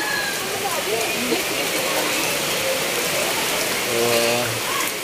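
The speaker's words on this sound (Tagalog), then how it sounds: "Umuulan pa" Steady rain patters across the whole stretch at a resort in Lucban, Quezon, a dense hiss of drops, with faint voices mixed in underneath.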